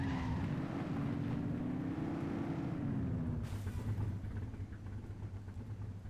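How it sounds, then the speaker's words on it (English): A car engine in the video game The Precinct hums steadily and fairly quietly, its pitch rising and falling slightly as the vehicle accelerates and eases off, with a continuous low rumble throughout. "That car sounds smexy."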